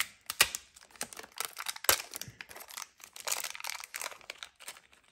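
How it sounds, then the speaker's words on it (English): A blade slicing through a package's tear tab during an unboxing, heard as quiet close-up crinkling and scratchy snips of paper and plastic in short irregular bursts. "Got a tear tab here. I'm going to cut it right here."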